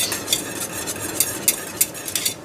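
A spoon stirs boiling apple cider jelly in a pot on a burner, making steady close scraping and swishing with a bubbling hiss beneath and several sharp clinks against the pot.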